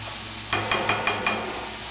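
Pre-cooked leftover meat added to a hot pan, with a steady sizzle and a few soft stirring scrapes over the background hiss.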